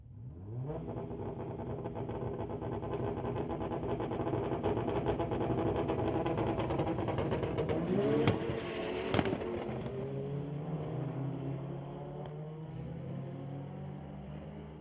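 A drag-racing Honda and a 2-liter 2013 Volkswagen Golf launch side by side at a street-legal night meet, engines revving hard and climbing through gears, a sharp shift midway, then fading as they pull away.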